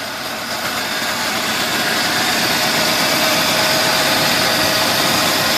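A Jeep YJ 2.5 engine runs steadily on a newly fitted carburetor, a loud continuous idle with a dense mechanical rumble and no voices over it.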